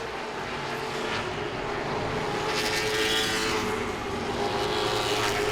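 Late model stock cars race at Langley Speedway. Engines roar loud and steady as a pack passes, with the pitch swelling and fading as cars move by, and no talk.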